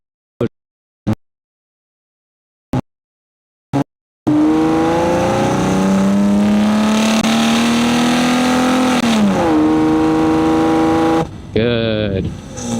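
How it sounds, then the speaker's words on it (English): A truck running on 10W40 oil drives with a loud, steady engine drone that rises slightly in pitch, then dips and changes near the end, preceded by a few sharp clicks. "Truck is driving good."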